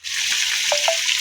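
Chopped tomato and potato frying together in hot oil in a pan, a steady loud sizzle filling the clip with a couple of brief higher tones near the end and no talking.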